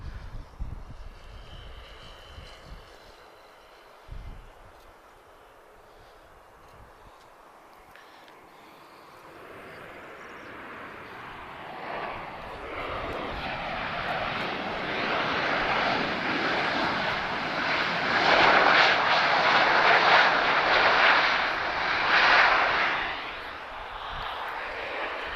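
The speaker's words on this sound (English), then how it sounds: "Give us some full reverse thrust." An airliner lands at Lisbon Airport and deploys reverse thrust, the engine roar swelling from a quiet start into a loud, sustained rushing roar that peaks before easing slightly at the end.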